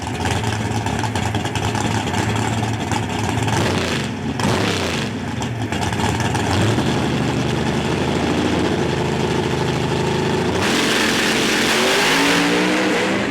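Naturally aspirated Pro Stock drag race car engine at the PDRA East Coast Nationals, loud and continuous with rough idle and revving shifts, then a sharp rise in pitch near the end as it accelerates.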